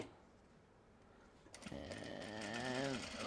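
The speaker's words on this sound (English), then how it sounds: "we're gonna stitch down, and then we're going to just pivot, and then we're gonna go up" A sewing machine stitches a seam on a Japanese fabric belt bag, starting after a quiet pause and running as a steady close mechanical whir with rising and falling motor tones.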